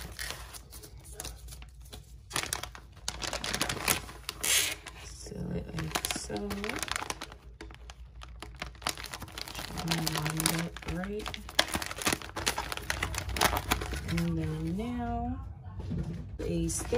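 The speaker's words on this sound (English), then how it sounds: "And now I'm just gonna pretty much seal this up." Crinkling and rustling of plastic packaging as a custom nail order is sealed up, close, steady handling noises throughout with a person talking at intervals.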